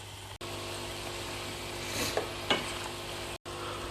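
Onions simmer with a splash of water in a pan, a soft continuous sizzle up close with a couple of brief scraping stirs and two short cuts in the sound.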